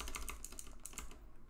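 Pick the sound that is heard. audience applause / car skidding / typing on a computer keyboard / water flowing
typing on a computer keyboard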